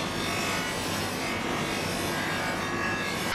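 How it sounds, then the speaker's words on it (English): Polishing mop with polishing compound buffing a chrome bumper from an Aston Martin DB5, a steady close abrasive whirring and rubbing that runs unbroken throughout, no talking. "this is a polishing mop, a polishing compound, or polishing soap, as some like to call it"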